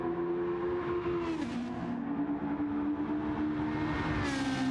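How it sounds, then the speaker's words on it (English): A race car in a Gran Turismo-style video game powers out of a hairpin at Lago Maggiore at full throttle, its engine droning loud and steady close by, the pitch dipping briefly at a gear change and then climbing again. "Straight full power onto the throttle."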